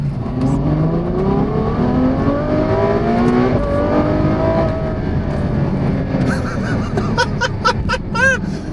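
730 bhp Ferrari F12 engine revving hard and accelerating, rising harmonic sweeps filling the cabin loudly, followed by an older woman laughing and shrieking close by.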